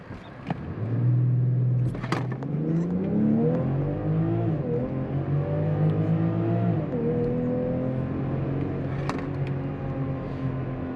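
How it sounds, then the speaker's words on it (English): 2022 BMW X5 xDrive40i SUV in sport mode doing a launch control start, the engine revving hard and climbing through gears with shift dips, loud steady cabin drone for several seconds. "Maybe I could sneak in a quick launch control."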